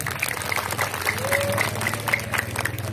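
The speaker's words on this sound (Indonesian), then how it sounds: "Tepuk tangan dulu untuk panitia." A crowd applauds at an Isra' Mi'raj religious lecture, a steady wash of many hands clapping continuously at moderate loudness.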